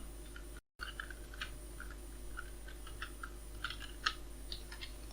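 An author's name being typed on a computer keyboard in quiet bursts of light, fast key clicks, close and alone, with brief pauses between runs of keystrokes.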